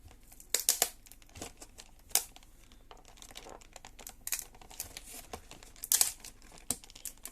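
Foil packaging of a trading card tri-pack crinkles and tears in short, scattered bursts, quiet and close, with soft handling rustle between them.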